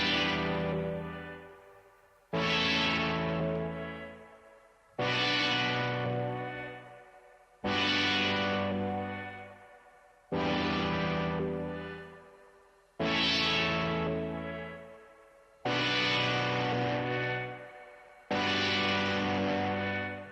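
Distorted loop played back on an Akai MPC X SE sampler, eight gritty, harmonically rich sustained hits repeating about every two and a half seconds, each decaying before the next strikes, loud with no voices.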